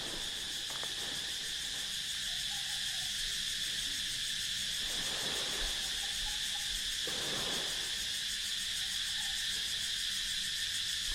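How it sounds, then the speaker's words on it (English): Cicadas chirping at sunset near a beach in Asia, a continuous high-pitched shrill drone layered in steady bands, with soft surf and faint ambient rumbles underneath and no talking. "I don't know if you can hear it, but the cicadas are suddenly really chirped up."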